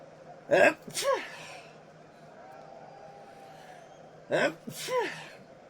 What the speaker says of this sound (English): I got to sneeze, hold on.